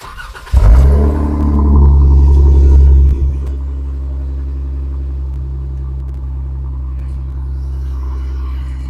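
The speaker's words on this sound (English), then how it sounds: "let's go ahead and give the engine a turnkey there, and let's listen to the exhaust before it gets replaced" A Jeep JK engine with its stock exhaust cranks and fires with a loud rev, then settles into a deep, steady idle rumble through the exhaust, close by.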